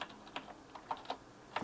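Keys clack on a Tesoro Durandal Ultimate mechanical keyboard with Cherry MX Black switches, about eight separate, unhurried strokes, close and quiet with no talking.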